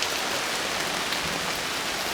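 Steady rain falls on a flooded campsite in Lakeport State Park, a dense, even patter of drops continuing without a break, close and moderately loud, with no voices.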